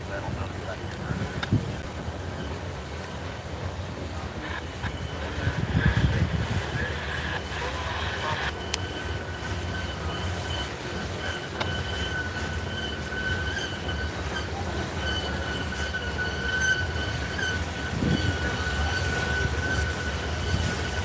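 Freight train with a distributed power unit rolling past at the DeButts classification yard, a steady rumble of wagons with intermittent wheel squeal and rising low-end surges as the mid-train locomotive approaches, with occasional talk.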